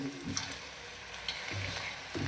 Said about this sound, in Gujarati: તેલ આવી ગયું છે ભજીયાની શરૂઆત કરી રહ્યા છીએ